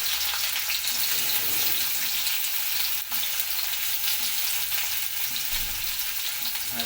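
Onion frying in a pan for tamarind curry, a dense steady sizzle with faint stirring, close and even in loudness, with one brief dip midway and no voices.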